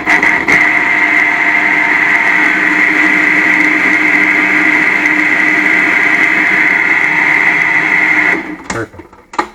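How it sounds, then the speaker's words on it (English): A blender whirs loudly and steadily for about eight seconds with a high whine, then cuts off abruptly, leaving a few brief clunks. "I'm going to first start by just blending this up. So just excuse the noise for a bit."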